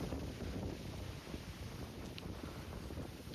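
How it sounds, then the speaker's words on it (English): Strong, persistent wind buffets the microphone outdoors beside a building, a dense, steady low roar that fills the whole clip with no speech. "Sorry about the wind again, people."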